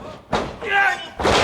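Wrestler's suplex slamming onto the ring mat during an NWA pro wrestling match, heard as loud, heavy thuds with arena crowd noise and a commentator's excited voice over the impacts.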